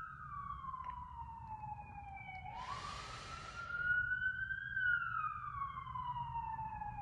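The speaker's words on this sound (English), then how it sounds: "the sirens are really a lot right now" Emergency vehicle sirens wail through a city street, a steady rising and falling tone with a second siren layered over it, heard at moderate distance over low traffic rumble and a brief hiss of passing noise.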